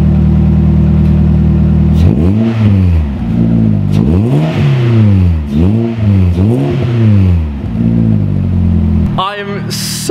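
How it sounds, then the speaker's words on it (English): A Seat Ibiza Sport fitted with a new universal back box exhaust revs hard over and over, each loud rising and falling roar blasting close by over a rough idle, with a voice shouting briefly at the end. "Noisy, noisy, noisy, noisy exhaust!"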